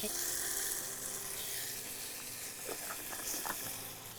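Mutton masala with tomato sautéing in oil, a continuous soft sizzle and hiss with faint stirring clinks toward the end, no one talking.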